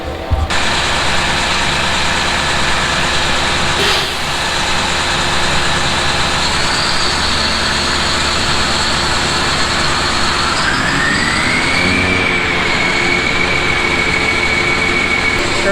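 A forage harvester fitted with a corn head runs through corn for silage, giving a loud, constant mechanical drone with high whining tones, and a pitch that sweeps upward partway through, heard from close by.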